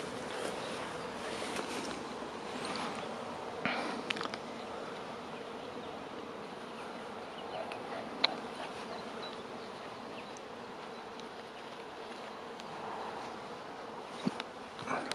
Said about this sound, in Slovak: počuť aj včely v nich